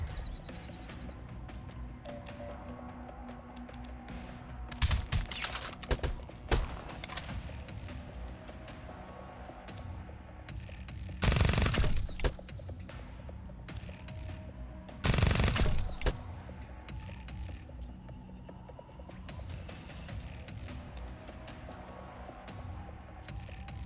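Turret gunfire from the video game Reverse Collapse: Bakery Girl, with loud bursts at intervals over a steady battle backdrop. The heaviest volleys are short and dense and come amid scattered lighter shots.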